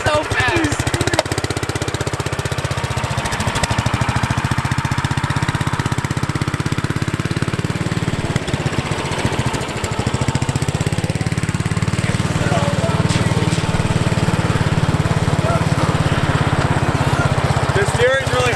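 An offroad go kart fitted with a 420cc engine drives along, its motor roaring loudly and steadily throughout with a rough, knocking chug and brief dips in revs.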